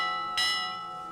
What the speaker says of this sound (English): And the bell started to ring.